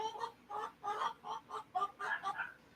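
A rooster crying out in a series of about eight short, faint, rhythmic squawking calls, fairly close and alone with no talk over it.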